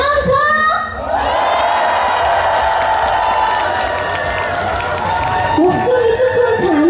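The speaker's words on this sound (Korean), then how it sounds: "박수와 함성!" A festival crowd at the Seongju melon festival song contest applauds and cheers loudly and without a break, with a voice over the crowd at the start and again near the end.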